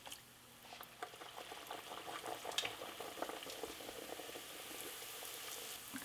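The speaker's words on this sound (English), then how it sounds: "we can head over to the oil and fry these up" Navajo fry bread dough frying in 350°F oil, a soft, steady bubbling sizzle with scattered small pops and crackles, fairly quiet and close, with no one talking.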